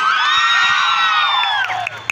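An audience at a college freshers welcome function cheers and whoops loudly with high, sustained shouting from the crowd, which tapers off into scattered claps and noise toward the end.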